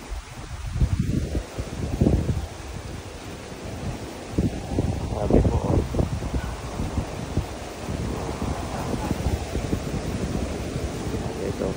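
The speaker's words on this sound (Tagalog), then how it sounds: "lakas ng hangin, oh" Strong wind by the sea gusts and buffets the microphone in uneven rushes, with a brief voice speaking near the start.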